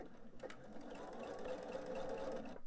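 Sewing machine stitching slowly across fabric pleats on a small lined purse front, a steady close mechanical whir with an even needle rhythm running throughout, alone.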